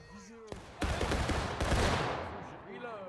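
A rifle volley fired on command in a reenactment of Pickett's Charge on the third day of the Battle of Gettysburg: a loud, close, crackling roll of many shots lasting over a second and fading into echo. Voices are heard before and after.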